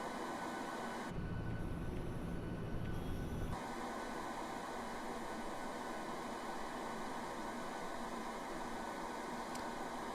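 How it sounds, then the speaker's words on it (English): The APU of a PMDG 737-700 spools up in Microsoft Flight Simulator, a steady turbine whine and airy rush with a louder low-end surge early on, then settling into an even hum. "I think we can hear the APU spooling from here."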